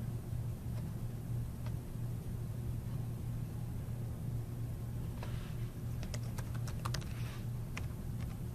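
Keys on a computer keyboard are typed while entering account details: sparse light clicks early on, then a quick burst of taps near the end, all over a steady low hum.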